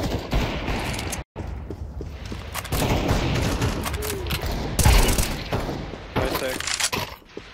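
Gunfire in the video game Counter-Strike 2 during a competitive match on the Office map, with dense bursts of shots and sharp impacts through most of the clip, heard under ongoing team voice chat.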